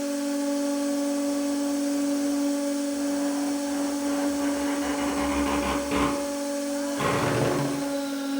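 A hydraulic press compresses snow into ice at full force, giving a steady loud motor whine with strong tonal hum, and gritty crunching bursts near the end as the snow gives way.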